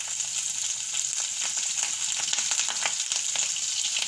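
Asafoetida and green chilies hit hot oil in a pan on a lowered flame, producing a continuous, even sizzle that crackles close up with no voices.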